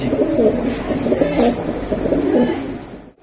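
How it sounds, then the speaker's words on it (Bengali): Racing pigeons, including a Maxi racer hen, coo steadily in low, rolling murmurs, close and continuous throughout with overlapping calls. "এটা একটা ম্যাক্সি রেসার মাদি কবুতর"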